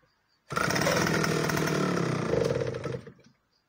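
A vintage West German Solo 60126 70cc professional chainsaw fires up and runs loud and close with a steady high-revving roar for about two and a half seconds, then cuts out and dies away.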